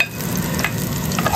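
Onion frying in hot oil gives a steady, close sizzle with soft crackles and a few brief scraping stirs, no voices over it.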